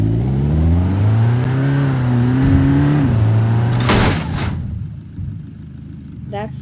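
Cherrier Tograc sport model with a diesel engine revving in the BeamNG.Drive driving game, a rising and falling engine drone that holds steady, then drops away near the end, with someone talking over it.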